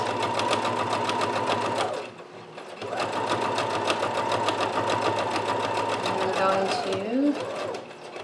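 A sewing machine stitches pleats in steady runs, stopping briefly for a pause and then resuming, with reverse stitching near the end; a voice talks over it at times.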